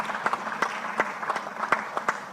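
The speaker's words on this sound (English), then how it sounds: "A round of applause as she comes to the stage" An audience applauds as a moderator walks onto the stage at a conference livestream, steady clapping with distinct claps standing out, moderately close and without talk.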